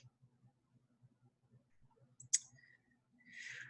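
A single sharp mouse click on a Continue button, brief and close, set against a faint quiet background with a soft rustle afterward.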